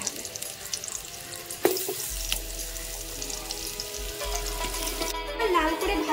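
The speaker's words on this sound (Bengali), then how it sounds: "এবারে ওই যে মশলা মাখানো যে ওলগুলো ছিল এগুলোকে আমি একটু ভেজে নেব" Spiced elephant foot yam pieces frying in hot oil in a pan give a continuous close sizzle and hiss, with a sharp utensil knock and light clatter along the way.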